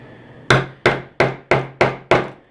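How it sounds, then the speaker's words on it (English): Six sharp hammer blows strike a leather knife sheath at a steady, evenly spaced rhythm, each a loud, close crack with a quick decay, with no talking. "Hammering away."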